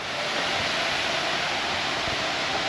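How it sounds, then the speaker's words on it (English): Steady, loud rushing of water released from a dam roars without pause, a dense broadband wash like heavy flow pouring through a spillway. "they're releasing water from the dam"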